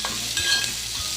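Grated cabbage frying in a hot pan with a steady, close sizzle and hiss, broken by soft scraping strokes of stirring.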